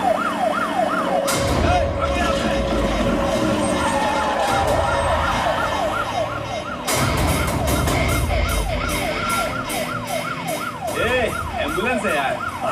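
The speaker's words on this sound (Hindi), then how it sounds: "ये तो पुलिस का सायरन है।" An emergency vehicle siren wails in rapid, repeated rising and falling sweeps, fairly close and continuous, over a background of street noise and rumble.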